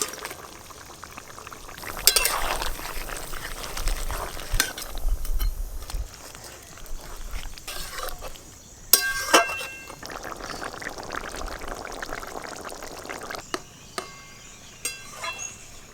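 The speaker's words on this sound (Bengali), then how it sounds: "ঝোল ফুটে গেছে, ভেজে রাখা সব মাছ দিয়ে দেব।" Fried shol fish go into a boiling curry broth with radish, bringing bubbling liquid, splashes and clinks of a utensil against the pot, intermittent and fairly close, without speech.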